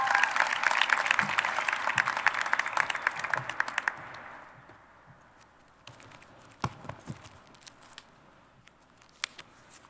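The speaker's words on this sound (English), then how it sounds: "please give a round of applause to our first speaker" A graduation crowd at a 2012 high school ceremony claps in a dense, steady patter for about four seconds. The applause then fades to a quiet room with a few scattered knocks and rustles.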